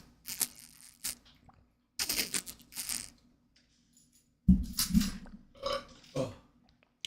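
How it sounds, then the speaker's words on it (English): A man's burp in the background of a room, picked up faintly as a few short throaty gurgling bursts separated by silences, with a low hum and small clicks. "my dad burped in the background"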